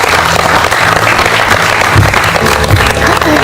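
Loud, close crowd applause for cricketer Virat Kohli at a World Cup 2023 cheer event, a thick continuous roar of clapping with a few low thumps, no talk over it.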